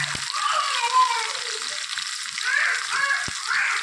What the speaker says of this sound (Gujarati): 2 પરી જેવું તેલ નાખ્યું હતું એની અંદર આપણે થોડીક ડુંગળી નાખી ડુંગળી ટામેટા